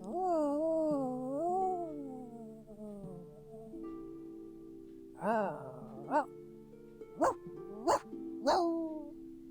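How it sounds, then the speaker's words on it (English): A puppy in the video game Genshin Impact lets out several short, sharp barks near the end, after a long whining and whimpering stretch over a steady musical backdrop. "There was barking right there."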